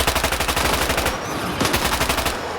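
Rapid automatic gunfire from a STALKER 2 firefight against a mutant, loud and close, in sustained bursts with a short break midway, no talk over it.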